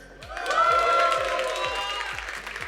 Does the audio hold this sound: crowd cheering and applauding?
yes